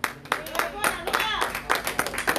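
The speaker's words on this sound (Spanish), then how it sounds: "Dale un aplauso a Cristo." Rhythmic clapping during a church service, a steady series of sharp hand claps repeating about every quarter second, mixed with voices talking and calling out over it.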